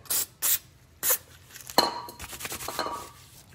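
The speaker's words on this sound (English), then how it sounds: "Some brake parts cleaner and get our gloves clean." Brake parts cleaner sprays from an aerosol can during a Toyota pickup rock crawler build, several short hissing bursts followed by a longer spray mixed with light clinks and handling noise.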